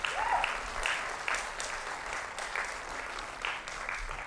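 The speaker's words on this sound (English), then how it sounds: "That deserves an applause." Audience applause at a college scholarship awards ceremony, a steady wash of many hands clapping that holds for a few seconds at an even level.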